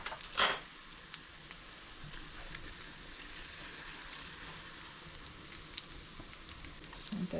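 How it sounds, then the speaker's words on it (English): Flour for a sauce sizzles quietly in a pan, a soft, even frying hiss after a brief louder clatter at the start. "I'm going to add about 3 tablespoons of flour to start this sauce."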